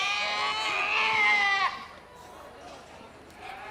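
A goat at a school livestock show lets out a loud, strained bleat with a wavering, rising pitch lasting over a second, then cuts off into quieter background chatter and crowd noise.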